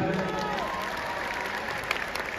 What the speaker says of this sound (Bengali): আপনাদের সবাই এবং দেবের জন্য একটা জোরে হাততালি হয়ে যাক